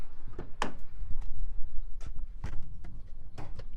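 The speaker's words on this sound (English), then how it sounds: "from the driver's side, pop the door." Several sharp clicks and thuds of a BMW X5 E70 diesel's driver's door latch being worked, with a broad rumbling background between the bursts.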